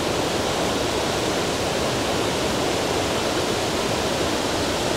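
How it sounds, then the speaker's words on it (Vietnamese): A stream swollen after heavy rain rushes in a steady, loud, unbroken roar of flowing water that fills the whole stretch, with no voices over it. "nghe tiếng suối này như kiểu sợ đấy không nhỉ?"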